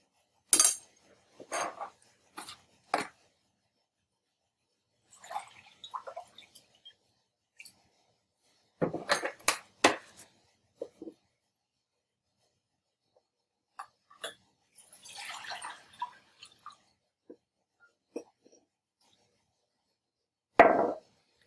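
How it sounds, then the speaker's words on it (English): Red cabbage leaves go into a saucepan on the stove with scattered, quiet clinks and clatters of the pan and utensils, separated by stretches of near silence. "we're putting in our red cabbage and putting this on the stove to boil"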